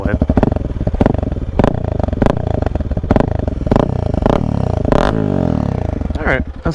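Honda CRF300L motorcycle with a loud aftermarket exhaust, baffle installed, revved repeatedly up close; sharp throttle blips rise and fall in a steady rhythm over a rumbling idle, loud and close.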